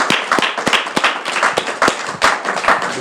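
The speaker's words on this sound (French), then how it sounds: "Est-ce qu'on peut applaudir?" Applause from an audience at a school kit handover ceremony for children with disabilities, a burst of dense, close clapping with sharp individual claps standing out throughout.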